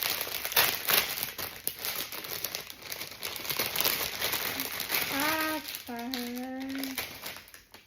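A Temu package of artificial daffodils is opened with bursts of plastic crinkling and rustling, while a voice talks briefly in the background.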